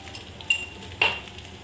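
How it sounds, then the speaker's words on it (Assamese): Coarsely crushed ginger and garlic frying in hot oil, a soft, quiet sizzle broken by two sharp clicks of a spoon stirring against the pan. "তেলখিনি গৰম হ'লে ইয়াত আদা নহৰু আমি খুন্দনাত খুন্দি লৈছিলোঁ"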